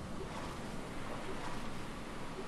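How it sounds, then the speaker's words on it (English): Ocean waves in the survival game Stranded Deep churn as a steady, soft broadband wash, faint and continuous with no voices over it. "Wow, look at these waves."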